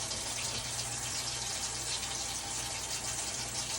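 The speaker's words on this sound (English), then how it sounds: "Leaving the water running during this process." Steady, even rush of water running from a tap, continuous and moderately loud with no pauses or voices.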